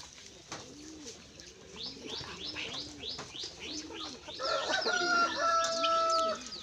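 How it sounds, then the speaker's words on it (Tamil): Chicks of a fighting-rooster breed cheep in a quick series of high, rising peeps, with low clucking from an adult bird repeating underneath and a few longer tones near the end. "சுள்ளி கோழி குஞ்சு."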